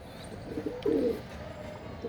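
A pigeon coos once inside a pigeon coop, a soft, low, brief call close by against a quiet background.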